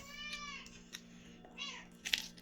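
Short, close cat meows, about three to four harmonic cries with brief pauses between them, over a low steady hum in an indoor room.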